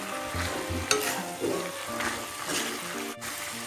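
Beef for gepuk simmers in a pan as its cooking water reduces, with a spoon scraping and stirring through steady sizzling and bubbling, and occasional sharp clinks against the pan.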